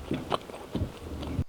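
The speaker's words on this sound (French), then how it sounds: "c'est un fromage en particulier qu'on appelle ici le fromage squish squish parce qu'il fait squish squish quand tu le mâches" Cheese curds for poutine chewed close up, a few squeaky, rubbery bites in quick succession, loud and alone without talk.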